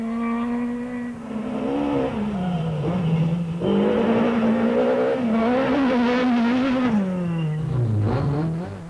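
Rally cars race through a misty, winding stage at the Tzaneen Rally 2005, engines revving hard up and down through gear changes with loud, sustained wailing and brief tire squeal, close and without talk.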